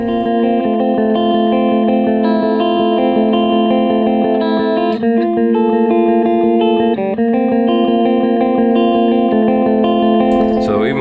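Sustained electric guitar chords ring out bright and shimmering through the clean channel of a Laney Ironheart amp, with light effects, playing continuously without talk.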